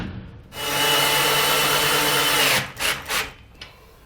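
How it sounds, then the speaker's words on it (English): A power drill drives extra-long self-tapping screws into a trailer frame: one steady, loud whirring run of about two seconds, then a few short, close bursts as the screw seats. "We're going to go ahead and take some extra long self-tapping screws to try to hit this frame to give it a little bit more strength."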